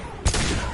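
A sudden burst of gunfire in Mass Effect 2 combat, one sharp loud blast followed by a sustained crackling volley under battle noise.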